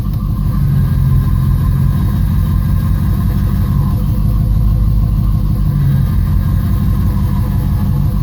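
A 1989 Camaro engine runs steadily at close range with a constant low rumble and mid-range hum, carrying the power steering noise that appears when turning; no one speaks.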